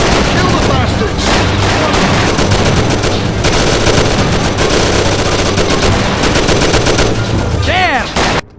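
Loud, sustained automatic gunfire and rapid shots fill a Mafia video game shootout, with dense bursts overlapping continuously and a brief voice near the end.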